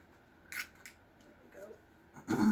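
Big scissors snip through vintage fabric in a few short, crisp cuts spaced apart, close and fairly quiet, with a louder rustle at the end.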